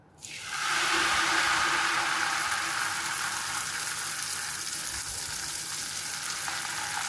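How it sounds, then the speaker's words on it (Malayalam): Batter for traditional kalthappam hits hot coconut oil with a sudden loud sizzle that quickly fills out into a steady, bubbling frying hiss, holding strong and close throughout. "ഇപ്പോൾ വെളിച്ചെണ്ണ നന്നായിട്ട് ചൂടായി വന്നിട്ടുണ്ട് അപ്പോൾ നമുക്ക് കലക്കി വെച്ചേക്കണ മാവ് കോരി ഒഴിച്ചു കൊടുക്കാം"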